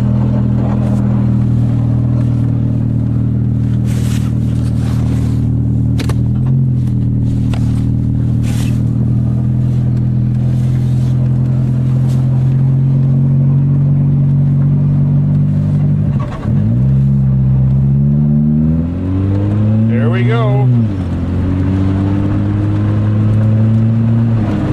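Engine of a 1990 Honda Civic with badly failing brakes rumbling steadily while driving in winter, with a few revs rising and falling and occasional clicks and thumps; no talking.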